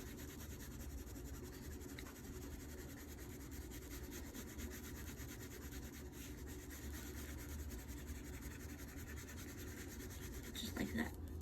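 A yellow crayon rubs steadily across paper while coloring a four-leaf clover, a faint, continuous scratchy scrubbing heard up close.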